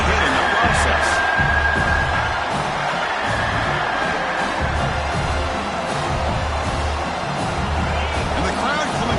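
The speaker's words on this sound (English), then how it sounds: "And the crowd coming to life here" Football stadium crowd rising to cheer as the defense holds in the red zone, a broad sustained roar under continuous play-by-play commentary, with a few whoops poking through.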